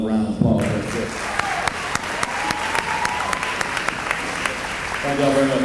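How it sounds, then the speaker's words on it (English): An audience at an athletic banquet claps in a dense, steady round of applause that fills the room, with a voice briefly audible at the start and again as it fades near the end. "Y'all give them another round of applause."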